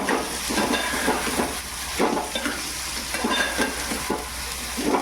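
Onion and tomato cook in a pan for kantoli bhaji, a steady sizzle running throughout with repeated scraping strokes of a spoon stirring at close range, no voices.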